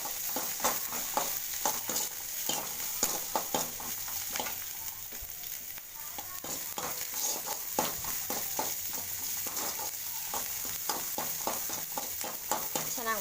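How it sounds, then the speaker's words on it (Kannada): Food being sautéed in a pan after green chilli goes in, a steady close sizzle broken by a long run of rhythmic spatula scrapes and clicks against the pan, with no talking. "ಸ್ವಲ್ಪ ಬಾಡಿಸಿದ ಮೇಲೆ ಚೆನ್ನಾಗಿ ಬಾಡಿಸಿ"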